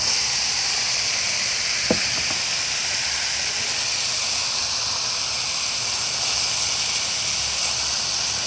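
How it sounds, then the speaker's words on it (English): Onions sizzle in a hot pan while jerk chicken chow mein is cooked, a steady loud hiss with one brief clink early on and no voices. "I'm going to add some onions to the mix"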